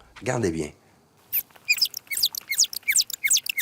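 A short low groaning call, then a rapid series of high, sweeping chirps and whistles: humpback whale song sped up 14 times into bird-like tweets.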